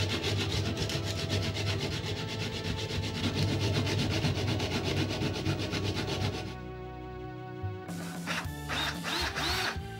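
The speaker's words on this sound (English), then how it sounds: "Sanding to remove the excess of material in the edges and give it a smooth finish." Edges of a part for a Pixar-style lamp robot being sanded, a loud continuous rough rubbing and scraping for about six seconds, then a quieter tonal stretch and a return of brighter scraping.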